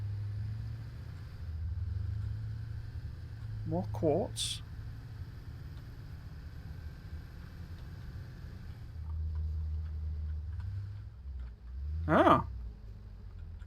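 A tractor in the video game Satisfactory drives through shallow water with a low, steady engine rumble and a watery wash, under a few brief spoken remarks.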